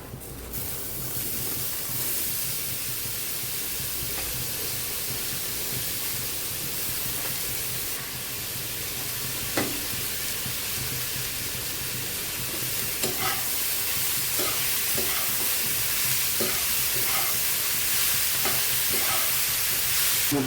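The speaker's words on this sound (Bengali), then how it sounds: "আমি সেই পটলগুলো এখন দিয়ে দিচ্ছি। আলু পেঁয়াজের সাথে একটু ভাজি করে নেব।" Pointed gourd frying in a pan with potatoes and onions, a steady close sizzle and hiss throughout with occasional stirring scrapes and clicks, no talking.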